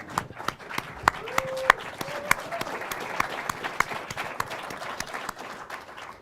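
Audience at a film festival award show applauding steadily, a dense patter of many hands clapping with sharp individual claps standing out, plus a brief whistle or cheer partway through.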